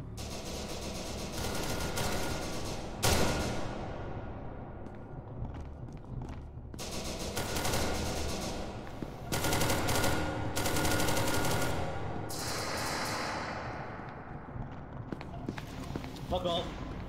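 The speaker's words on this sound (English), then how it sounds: "They are shooting me and I don't like it." Gunfire in a video game: sharp bursts of shots and rapid automatic fire erupt repeatedly amid game noise, with a player talking throughout.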